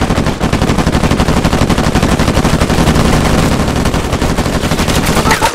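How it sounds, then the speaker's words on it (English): Sustained rapid gunfire in Uncharted 4: A Thief's End multiplayer, a dense, loud stream of automatic shots crackling without pause for several seconds. "What the fuck are you shooting at?"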